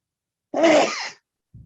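A single sharp sneeze bursts out close to the microphone during an online finance committee meeting, followed by a short, faint rustle.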